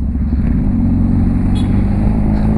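A Honda CB 1000R motorcycle under way with a passenger aboard, its engine giving a loud, steady low rumble at close range, holding a constant drone with no speech over it.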